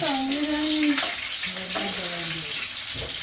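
Half an onion hits a hot pan that already holds dried red chillies, giving a steady broadband sizzle and fry under a voice talking throughout.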